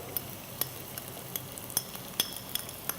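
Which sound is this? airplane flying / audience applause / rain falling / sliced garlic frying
sliced garlic frying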